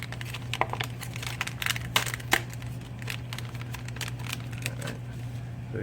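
Plastic packaging around an ASSAN AG63 anti-sideslip brake and steering gyro crinkles and rustles close by in short irregular bursts over a low steady hum.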